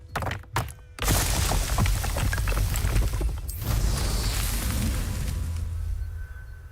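Confringo fire spell exploding in Hogwarts Legacy, a few brief thumps followed by a loud burst that leaves a sustained booming, crackling rumble fading slowly over several seconds, with no voices.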